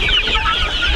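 Local chickens on a Nepali poultry farm cluck continuously and close by, several birds overlapping in a busy, steady chatter with no pauses.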